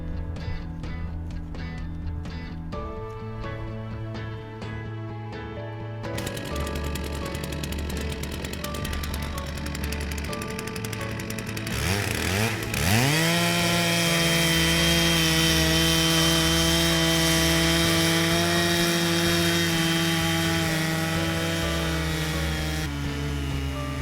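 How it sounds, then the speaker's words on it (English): A chainsaw mounted on a Logosol Smart-Timberjig mill runs steadily through a log, its engine droning loud and continuous as the blade rips lengthwise into boards, with pitch shifts under load. "Keep an even pressure on the chainsaw handle in order to make a straight and fine cut."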